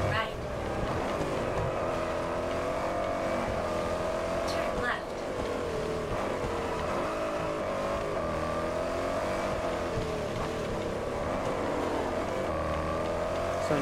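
A Jaguar F-Type engine drones steadily and loudly in Test Drive Unlimited Solar Crown, with small pitch shifts as the car gathers speed and a voice speaking over the continuous motor and road noise.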